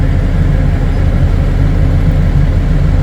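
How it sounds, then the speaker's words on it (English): A tractor engine runs loud and close with a steady, deep rumbling drone that does not vary in level. "So let's start up the tractor."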